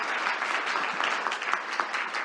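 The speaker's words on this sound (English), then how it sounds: "can I have a really big round of applause for Vicki, Kay, and Priya." An audience at a tech conference talk applauds steadily, dense and fairly loud clapping from many hands filling the whole moment with no voices over it.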